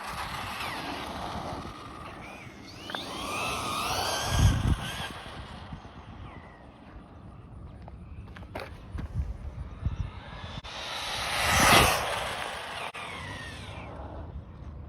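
A Jetwood JC14EP RC car whines past twice, its electric motor rising and fading as it approaches and passes at speed, with clatter and scuffing between the runs.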